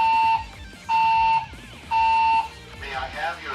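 Building fire alarm sounding three loud, steady electronic tone bursts in an even rhythm, each about half a second long, with a recorded announcement voice starting after the last tone.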